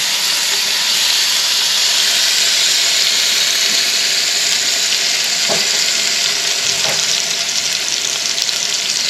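Bacon fries outdoors in a pan already seasoned with beef drippings, giving a loud, steady, close sizzle with a couple of faint knocks under it.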